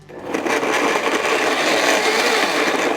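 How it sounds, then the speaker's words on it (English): A high-powered blender spins up within the first half second and runs steadily, loud and close, with a dense whirring roar puréeing beets for an eggplant Beef Wellington. "But a high-power blender is gonna get this incredibly, incredibly smooth"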